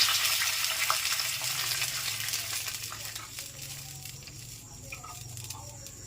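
Stirring in a cooking pan with a little salt and green chilli, a steady bright frying hiss and soft scraping throughout that fades slightly toward the end, with no talk.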